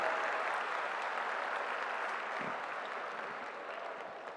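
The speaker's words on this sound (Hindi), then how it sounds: "जोर से तालियां होनी चाहिए" Audience applause at the inaugural ceremony of a national conference of CA students, a sustained wash of clapping from a large crowd, steady and even throughout, slowly easing off.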